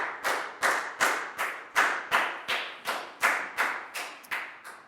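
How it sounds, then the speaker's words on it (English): Children clap in a primary school classroom in about ten sharp, evenly spaced bursts, each a quick decaying slap, close and fairly quiet, with no talking. "High five and a big round of applause for Nadia, please, guys."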